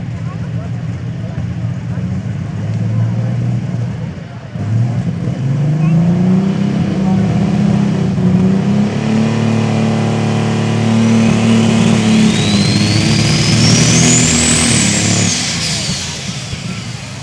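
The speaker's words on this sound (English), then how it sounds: "unnamed John Deere tractor coming up next" A John Deere pulling tractor at a truck and tractor pull, its engine droning low, dipping briefly, then climbing in a long rising rev with a whining high tone, loud and close amid an announcer's talk.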